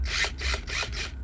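A well-worn power drill runs in repeated short bursts during headliner removal on a 2006–2011 BMW E90 325i, close and fairly loud, with rhythmic whirring pulses about four times over the span.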